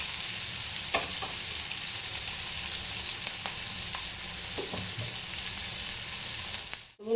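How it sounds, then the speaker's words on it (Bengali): Whole onions frying in a pan for egg do pyaza give off a steady, dense sizzle that runs for several seconds with faint stirring clicks. A brief clatter comes near the end. "এটা একটু ভেজে নিতে হবে ভালোভাবে।"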